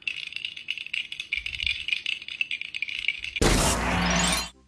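LEGO pieces rattling and clicking while a Thomas the Tank Engine model is built, busy close clatter that swells into a loud jangling shake of loose bricks near the end.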